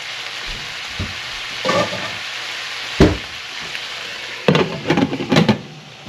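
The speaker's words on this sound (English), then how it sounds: "we're just going to let that cook down" Teriyaki steak stir fry cooks down in a pan with a steady close sizzle, broken by several louder clattering stirs and scrapes of a utensil against the pan, with no voices.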